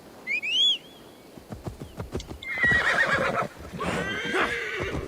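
A horse in the video game Assassin's Creed Valhalla gives a high whinny, then its hooves clop in an irregular run of beats that grows louder and busier as it comes close.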